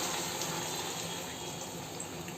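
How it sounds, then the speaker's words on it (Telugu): Water poured into a pot of chicken dum biryani with capsicum, a steady rushing gush of liquid, close and continuous for a couple of seconds. "ఈ సమయంలో మనము చక్కగా వాటర్ పోసుకోవాలి."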